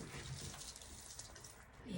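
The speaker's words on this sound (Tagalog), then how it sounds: "Isang basong tubig." Water poured from a glass into a cooking pot while fish paksiw is being prepared with ginger, a steady splashing, trickling stream heard close up throughout.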